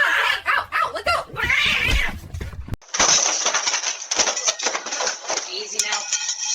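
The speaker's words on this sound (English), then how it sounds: "Oh, it's just a kitty." A cat yowls and caterwauls loudly in repeated drawn-out wails, close by, while a person exclaims and talks over the noise.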